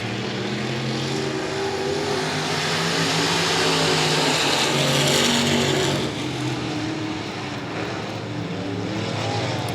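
Race cars roaring around a dirt track at night in Texas, with car 91 pulling away, a loud sustained engine drone rising and falling as the field passes close by.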